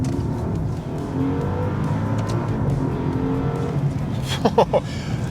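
A Ferrari-derived V8 engine in a 2024 Maserati Ghibli Trofeo rumbles and revs steadily, with a few sharp higher bursts near the end, no talking over it.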